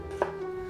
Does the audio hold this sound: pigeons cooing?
no